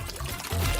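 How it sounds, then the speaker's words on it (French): A jet of water gushes steadily as it is sprayed to put out a fire, a loud, close, continuous pouring rush that grows stronger in the second half. "Ce lanceau d'eau peut éteindre ce feu."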